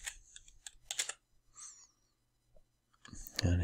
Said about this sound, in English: just type clean